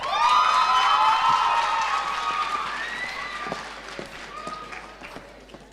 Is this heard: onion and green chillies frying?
no